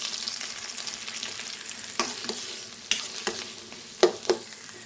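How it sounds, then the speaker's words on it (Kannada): Mustard seeds and cumin frying in hot oil as tempering for sprouted horse gram, a steady close sizzle with several sharp crackles and pops from the spitting seeds, no talk. "ಮೊಳಕೆ ಕಟ್ಟಿದ ಕಾಳಿಗೆ ಒಗ್ಗರಣೆ ಹಾಕೋದಕ್ಕೆ ಸಾಸಿವೆ, ಜೀರಿಗೆ ಹಾಕ್ತಾಯಿದ್ದೀನಿ."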